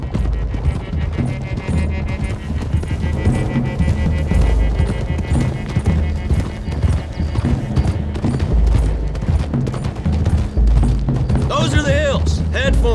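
Horses gallop in Red Dead Redemption 2, a continuous busy clatter of hooves mixed with rumbling game sound and music, while voices talk over it throughout.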